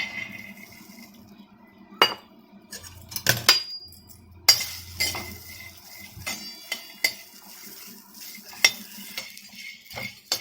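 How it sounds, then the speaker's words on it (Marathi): Seeds being dry roasted in a metal pan for a Khandeshi ridge gourd dish, with scattered clinks and scrapes of a spatula and light rattling, loud sharp taps punctuating a quiet background. "तर चला आपण आता सुरुवातीला हे भाजून दाखवतो. हे दाणे हे आपल्याला भाजायचे."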